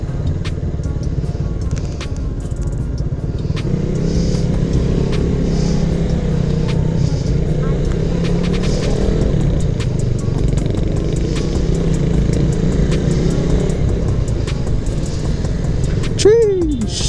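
Steady street traffic in General Santos, with cars and motorcycles running as a continuous loud rumble that holds for the whole stretch, and a brief rising whine near the end.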